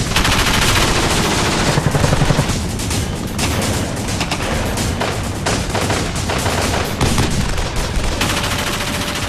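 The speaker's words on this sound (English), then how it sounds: "A burst of machine gun fire rips through the chopper." Sustained, loud machine-gun fire during an ambush on a military helicopter, with dense rapid bursts and heavy impacts continuing throughout, no talking.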